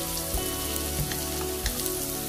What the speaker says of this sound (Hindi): अब हम इसे लाइट ब्राउन तक होने तक भूनेंगे